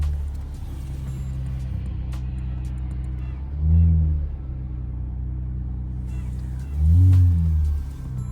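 Cabin view of a 2014 Dodge Charger with a muffler delete: a steady low engine drone with two swelling revs, loud and close, no talking.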